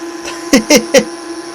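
The cooling fan of a Kemppi Minarc Evo 150 welding machine hums steadily up close, with a steady drone under three short bursts of voice.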